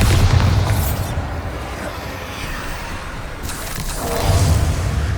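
A Bombarda explosion spell cast in Hogwarts Legacy: a loud, low booming blast with rumbling energy at the start, a quieter stretch of lingering rumble, then a second heavy burst near the end.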